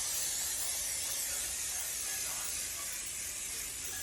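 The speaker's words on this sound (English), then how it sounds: "what I'm going to do is spray the egg cups" Cooking spray hisses steadily from a can onto a pan of egg muffin cups, a continuous close, soft airy spray lasting several seconds without pause.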